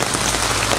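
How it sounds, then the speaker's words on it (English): Rain pours steadily onto a surface at an outdoor anniversary gathering, a dense, loud, close hiss of countless drops with no talking. "The rain is on its way out,"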